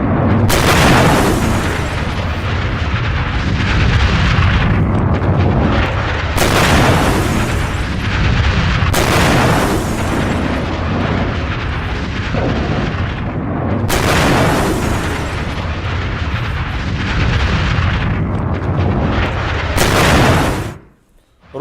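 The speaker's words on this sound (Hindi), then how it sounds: "और उस हमले के बाद देखिए जरा धमाके।" A relentless series of heavy missile explosions from a Hezbollah attack on Israel, loud booming blasts recurring every few seconds over a continuous roaring rumble, then cutting off abruptly at the end.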